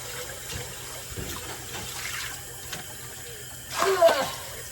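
Running tap water splashes over a hot pan being rinsed without soap, a steady low wash with a louder gush near the end, heard close and alone.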